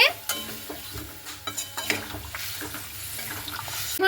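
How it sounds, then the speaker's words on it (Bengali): Raw green banana and potato pieces stirred with added water in a pan, wet sloshing and scraping with irregular spoon knocks against the metal, close and steady under a soft simmering hiss, no talking. "জলটাকে দিয়ে এইভাবে একটু নাড়াচাড়া করে নিচ্ছি"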